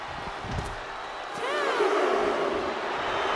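An arena crowd roars and cheers during a WWE 2K24 wrestling match, with a dull thud or two early on before a swelling wave of crowd noise and whistling in the middle.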